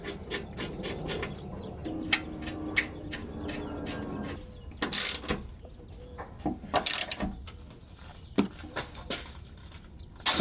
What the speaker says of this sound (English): It just lines up on those two holes. And then reinstall the bolts.